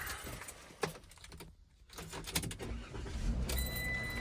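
An old, trusty car nicknamed Betsy is started up. Clicks and handling noises come first, then the engine catches and settles into a low, steady rumble that grows louder toward the end.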